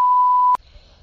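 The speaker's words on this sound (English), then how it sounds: "Leave a message after the beep." An answering machine's steady electronic beep sounds loudly for about half a second, then cuts off abruptly into near silence.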